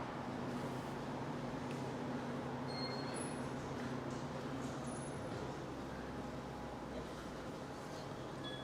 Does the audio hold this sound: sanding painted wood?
no